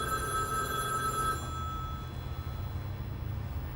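A telephone bell rings with a bright sustained metallic trill that cuts off after about a second and a half, leaving faint background noise.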